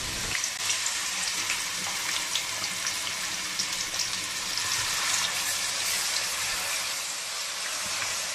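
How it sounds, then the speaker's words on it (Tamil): Shallot paste sautés in a pan for fish curry, giving a steady, bright frying hiss with small crackles, fairly close and uninterrupted. "வெங்காயம் ஸ்மெல் போகிற வரைக்கும் நம்ம நல்லா வதக்கிக்கலாம்."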